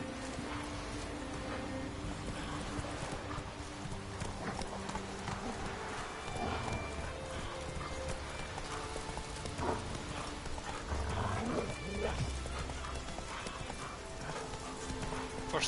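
Geralt's horse Roach in The Witcher 3 galloping with steady, rapid hoof clip-clops throughout, a brief whinny, amid game ambience and faint background voices.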